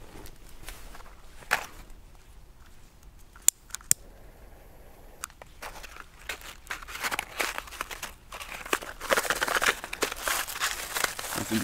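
Fireworks packaging, Komet Blitz und Donner, is handled in a plastic bag outdoors in the snow at New Year: steady crinkling and rustling with a few sharp clicks, growing busier and louder toward the end.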